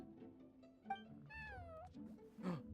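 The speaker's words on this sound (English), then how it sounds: "Oh, it's a little kitty." A small cat meows in the video game Genshin Impact, a couple of rising and falling mewing calls over soft game music and ambient background sounds.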